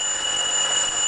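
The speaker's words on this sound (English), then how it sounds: "again we had this sound of the alarm and automatic switch off" A vessel level alarm in a laboratory control system beeps as a steady high electronic tone, sustained and clear with no voices over it.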